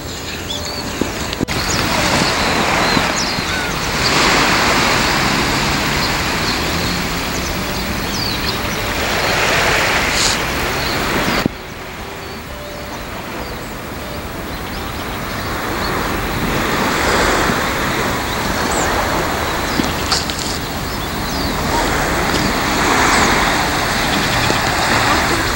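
Sea waves wash ashore at the seaside in Toi, Japan, a continuous broad roar of surf with swelling and receding surges and a light breeze, steady and fairly loud, with one abrupt break partway through.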